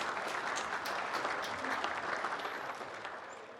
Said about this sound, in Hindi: जोरदार तालियों से धन्यवाद करें